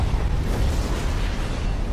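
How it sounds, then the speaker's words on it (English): In Resident Evil 2 (2019), a flame-covered train car explodes, giving a loud, dense burst of roaring, crackling noise that holds steady for a couple of seconds. "explosion"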